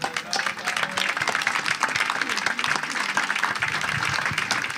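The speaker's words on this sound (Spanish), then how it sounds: "Por favor, denles a todos ellos un gran aplauso" An audience at a book presentation for Fernando Aramburu's "El Niño" applauds, dense and lively clapping that stays loud and even throughout, with a few voices mixed in.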